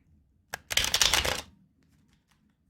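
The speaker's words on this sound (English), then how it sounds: "A few more shuffles." A quick riffle of tarot cards being shuffled, a short close burst of rapid flicking after a single tap, then near silence.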